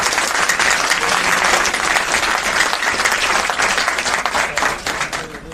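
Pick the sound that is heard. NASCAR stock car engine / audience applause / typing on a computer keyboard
audience applause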